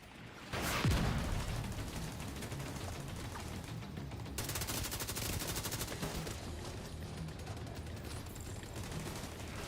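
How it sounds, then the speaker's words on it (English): Mortar fire in the video game The Division 2: a sharp, loud blast with a falling whistle opens a dense, continuous roar of explosions and gunfire that stays heavy and close throughout. "Mortars on this location. ASAP! Watch those mortars."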